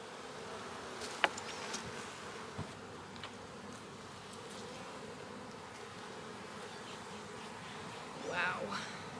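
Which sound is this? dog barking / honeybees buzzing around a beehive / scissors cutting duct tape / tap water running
honeybees buzzing around a beehive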